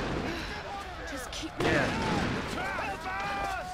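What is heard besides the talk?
explosions in the video game Tomb Raider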